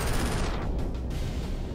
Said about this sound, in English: We're firing our cannons at the front of the rat.